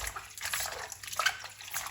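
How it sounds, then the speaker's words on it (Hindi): Orange peels, earlier soaked with baking soda, are rinsed by hand in water in a cooking pot, giving continuous close sloshing and splashing with small irregular surges and no talking. "तो इनको हम 2-3 पानी से धो लेंगे।"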